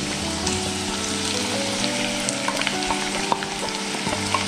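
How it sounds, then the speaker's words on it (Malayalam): Thinly sliced onions fry in hot oil for a Hyderabad-style chicken masala, a steady, close crackling sizzle with small bubbling pops throughout and no talking. "എണ്ണ ചൂടായിട്ടുണ്ട്. നമുക്ക് സവോള ഇട്ട് വറുത്തെടുക്കാം."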